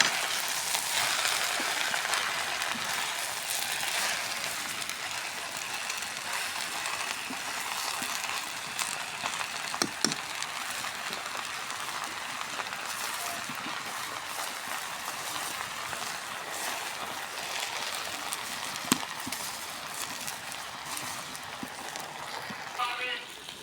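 Jute leaves (pat shak) fry in a pan with a steady, bright sizzle that runs throughout, dotted with occasional pops and clicks while a voice talks over the cooking.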